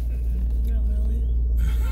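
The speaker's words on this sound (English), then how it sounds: "So, now me and Jen is in the car, and we're on our way to the park" Car interior on the road, a steady low engine and road rumble filling the cabin with no breaks, fairly loud and continuous, with a faint vehicle hiss above.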